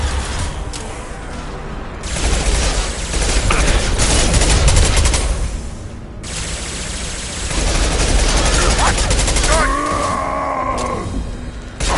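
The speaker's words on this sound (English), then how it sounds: "Taking heavy fire." Heavy sustained gunfire in a Mass Effect 2 firefight, dense overlapping bursts filling the mix for most of the stretch, with a brief lull near the middle and a rising tonal effect toward the end.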